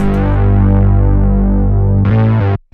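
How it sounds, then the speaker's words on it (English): A thick, sustained Juno 60-style analog synth bass note with unison drones with a wide, chorused shimmer, then briefly brightens before cutting off. "this to me is meant to sound like a really big fat analog like Juno 60 bass"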